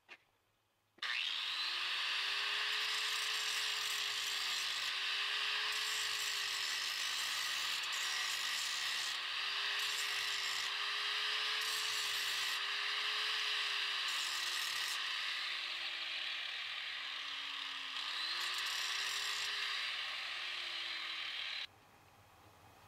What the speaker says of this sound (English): I don't want to get too close with that grinding disc